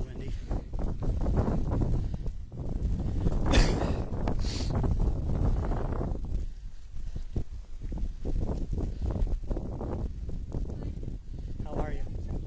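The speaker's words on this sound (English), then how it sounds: "Extremely windy." Strong wind roars against the microphone on the final approach to the Cascade Mountain summit, a loud steady rush with gusts rising and easing throughout.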